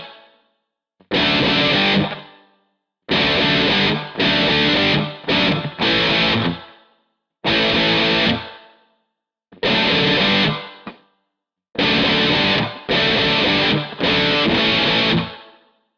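Heavily distorted electric guitar played through a Guitar Rig effects preset plays chopped riff phrases, loud bursts separated by short silences.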